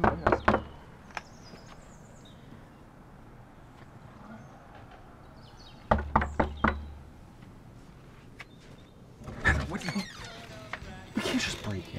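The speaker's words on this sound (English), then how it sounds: "Knock on the door." Sharp knocks on a door in a film scene, arriving in quick bursts of several raps spaced apart, close and loud over a quiet room, with people talking.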